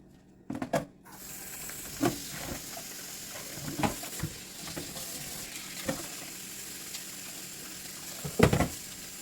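Tap water runs steadily into a sink while raw chicken is washed for Jamaican brown stew, with splashes and handling knocks breaking through the continuous hiss.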